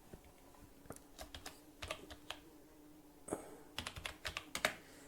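Typing on a computer keyboard while entering text into an Excel spreadsheet: irregular clusters of quiet key clicks, close but faint, with no voices.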